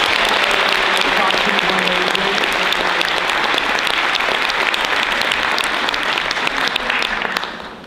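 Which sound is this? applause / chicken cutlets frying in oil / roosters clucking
applause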